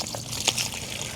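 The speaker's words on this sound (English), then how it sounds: "That's just pressure," Leftover pressurized water from the line trickles out of a Woodford Model 17 outdoor spigot, a brief, faint dribble with a small splash near the middle.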